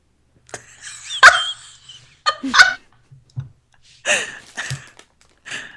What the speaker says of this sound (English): The dog wants my pita chips.